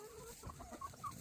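Backyard chickens clucking softly and far off, a few short, quiet calls over a low, steady background hum.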